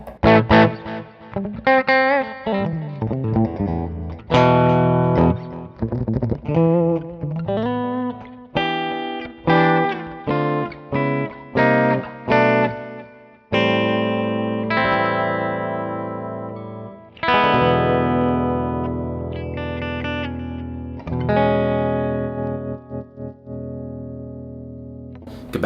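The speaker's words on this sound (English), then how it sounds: "And in the bridge pickup, you get this kind of quacky sound." A modified Epiphone SG Special electric guitar on its bridge pickup has a bright, nasal, quacky tone, with choppy picked notes and chords followed by longer sustained strums that ring and fade, played close and clear.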